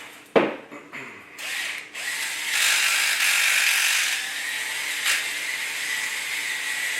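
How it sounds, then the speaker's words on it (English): A pepper mill grinding pepper over a skillet of cooking vegetables, a close, loud, steady rasping grind that runs for several seconds after a sharp initial click, with no talk. "Pepper grind it down in a minute."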